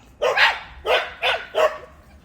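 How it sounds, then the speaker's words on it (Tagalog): Four loud barks from a dog nearby, evenly spaced about half a second apart, with faint background noise between them. "Ayan tumatahol yung mga aso."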